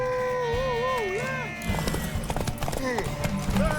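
Galloping horse hooves in The Witcher 3, during Ciri's race to a tower: a quick run of close hoofbeats kicks in partway through, following a stretch of tonal calls, with voices and a whinny over the top.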